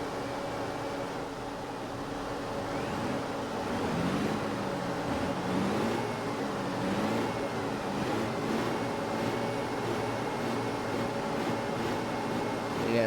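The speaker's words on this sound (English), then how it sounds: "so let her rev up a bit" Car engine warming up in cold, snowy weather, idling steadily with a low hum while its pitch rises and falls in gentle revs, under a constant background whoosh.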